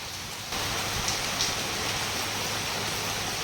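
Heavy rain falls at night during a village Ashtam Prahari festival, a dense steady hiss of drops that grows slightly louder after a moment and continues without a break.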